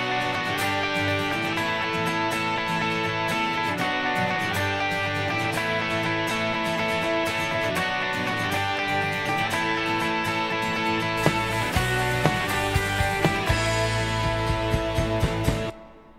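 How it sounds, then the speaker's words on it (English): Layered electric guitar parts, seven tracks in all including doubled distorted rhythm and a high lead melody, play together as a dense, loud, continuous wall of sound, with sharper accents late before a sudden stop. "So all together, those guitar parts sound like this."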